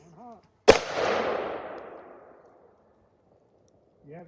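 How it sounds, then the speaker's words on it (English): A single sharp, loud crack from a Desert Eagle .50 AE pistol fired at a steel silhouette target, followed by a long rumbling echo that fades over about two seconds, with faint voices at either end. "I'm shooting at that steel silhouette"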